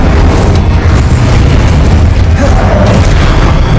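Fiery spell blasts in Hogwarts Legacy, including Incendio, boom continuously at very high loudness, a dense roaring burst of explosions with no pauses, close and overwhelming.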